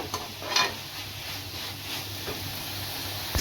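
Bitter gourd sautés in a pan with a faint, steady sizzle and a few soft stirring scrapes, quiet and close, with no voices.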